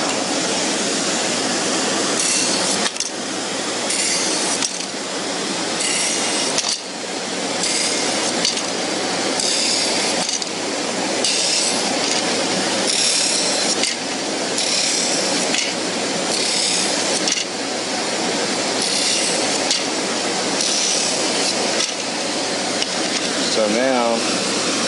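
A sanding machine rounding over the edges of small wooden pieces, a loud steady abrasive whir with rhythmic surges as pieces pass through, and a person talking over it throughout.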